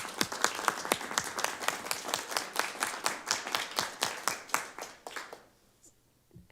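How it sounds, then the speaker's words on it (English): A small group at a city council retreat gives a round of applause, distinct sharp claps in a quick irregular rhythm that build, then thin out and stop. "So can you all join me in a round of applause for"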